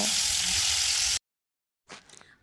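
Fish sizzles loudly in hot oil for about a second, then cuts to sudden silence, followed by a brief, softer clatter.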